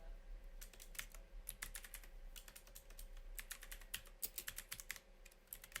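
A computer keyboard is typed on in quick, uneven bursts of close, crisp key clicks, pausing briefly between words and speeding into rapid clusters near the end, with no voices.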